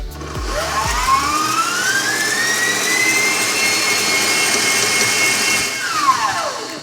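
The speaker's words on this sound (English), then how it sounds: "We're gonna whip this until it's light and fluffy and perfect for frosting." A high-speed electric mixer whips chocolate meringue Swiss buttercream, a steady loud whirring drone with a rising motor pitch that holds and then winds down at the end, with no talking.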